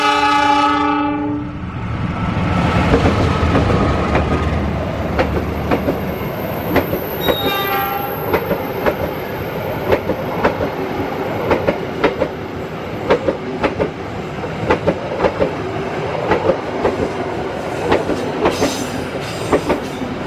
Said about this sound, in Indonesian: Kereta api lodaya sudah melintas di sini